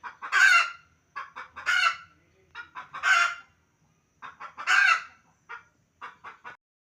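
Farmyard chickens clucking and crowing in short, loud bursts separated by brief pauses, several birds calling close by with no talk.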